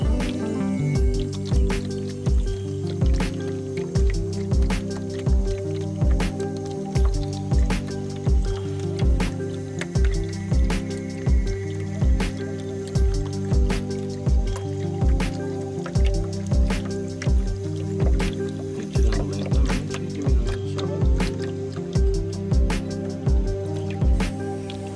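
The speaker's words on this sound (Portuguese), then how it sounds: "Vou liberando a vazão lentamente, até o preenchimento do frasco de 2 a 3 vezes do" Water runs slowly into a sample flask during field water collection, making a steady, regular pattern of soft dripping and gurgling pulses that repeats evenly throughout, fairly close, with no voices.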